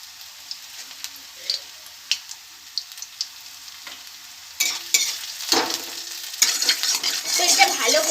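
Garlic frying in hot mustard oil in a wok while cooking fenugreek greens, a light crackle with scattered pops and spoon taps that swells into a louder, continuous sizzle as it is stirred.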